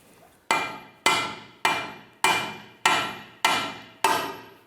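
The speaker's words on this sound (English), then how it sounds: "Using a wedge type chisel, pop that in there." A hammer strikes a wedge-type chisel seven times at a steady rhythm to separate the ball joint from the knuckle of a 2008-2013 Nissan Rogue during CV axle replacement; each sharp metallic clang rings and decays.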